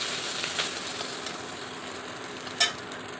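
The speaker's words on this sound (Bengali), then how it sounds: "আস্তে আস্তে করে মাথাটা ভেজে তারপরে লেজাটা ভাজবে" Katla fish head fries in hot oil, giving a soft steady sizzle with a few brief crackles and spits, close and fairly quiet, with no talking.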